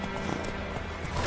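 Roach, a horse ridden in The Witcher 3, moving at pace with a steady run of close, dense hoofbeats that continues without a break for the whole moment, sitting under a constant layer of game ambience.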